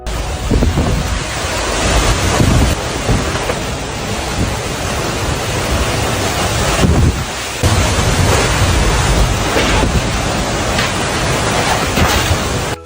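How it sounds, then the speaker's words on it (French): Violent tornado winds roaring past a house in Illinois, a loud, continuous broadband rush with heavy buffeting on the microphone and brief dips before the gusts surge back, no voices. "une tornade extrêmement violente a frôlé la maison de cet homme dans l'Illinois"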